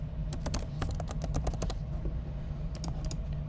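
Close clicking keystrokes on a computer keyboard, tapped in quick irregular runs with a short pause and then a few more strokes, over a steady low hum.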